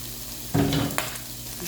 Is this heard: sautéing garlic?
yes